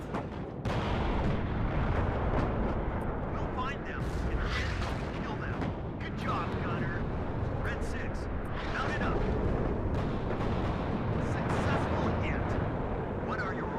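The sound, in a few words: artillery fire hitting units in WARNO video game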